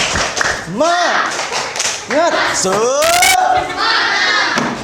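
Classroom children chant the rhythmic 'tepuk semangat' clap cheer together, loud rising shouted syllables punctuated by sharp group claps and taps, close and energetic for several seconds.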